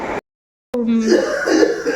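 An elderly man with a cough gives a short, rough cough close to the microphone, followed by a moment of silence and then hoarse throat clearing and wheezy breathing that trail into faint background sound.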